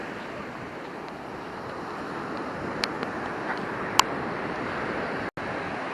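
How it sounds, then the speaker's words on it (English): Ocean surf rolls steadily onto the beach near Hatteras Lighthouse on the Outer Banks, a continuous broad wash of breaking waves with wind noise, moderately loud, with no speech. "some of the waves have been getting pushed in a little bit further"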